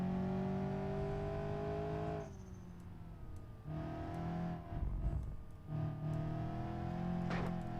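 Ibishu 200BX engine in BeamNG racing around a short track, a droning engine note that dips and rises through gear changes and braking, steady and close throughout.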